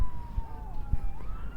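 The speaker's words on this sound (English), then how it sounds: "and obviously an ambulance or something," A siren from an ambulance or police car on Blackpool promenade wails in one long, wavering tone at mid distance, under low traffic rumble and a few soft thumps.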